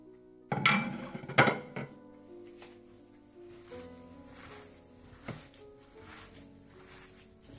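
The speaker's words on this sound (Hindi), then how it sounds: "प्याज, हरा धनिया, हरी मिर्चें कटी हुई, ये डालकर आप अच्छी तरह से मिला लें।" Potato filling for aloo paratha being mixed by hand with chopped onion, coriander and green chilies in a bowl: a couple of sharp clinks of utensil on dish early on, then soft, faint stirring and shuffling with no talk.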